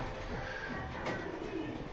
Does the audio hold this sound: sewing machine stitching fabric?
no